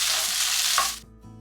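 Chopped onions sautéing in a hot pan, a loud close sizzle with stirring that cuts off abruptly near the end, leaving faint quiet residue.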